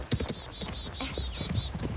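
Horse hooves clip-clop in an even, steady rhythm across the whole stretch, moderately close, with a faint high whistling tone above and no speech.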